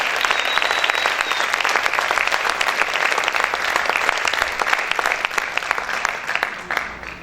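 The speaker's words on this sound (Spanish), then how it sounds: "Vamos a aplaudir fuerte al Rey." A church congregation claps loudly and continuously, a thick, even roar of many hands that holds for several seconds and eases slightly near the end.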